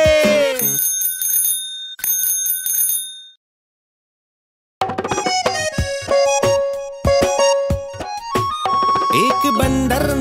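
A bicycle bell rings in a bright run of quick repeated dings within a Hindi children's song. A short silence follows before the cheerful music with tuned percussion resumes.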